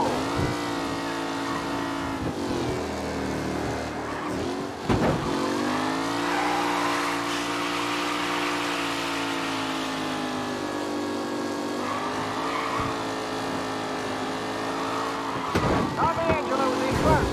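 Race cars in a Mafia: Definitive Edition race roar along at steady high revs, engine tone rising and falling with a sharp burst near the middle, while a commentator's voice talks over the racing throughout.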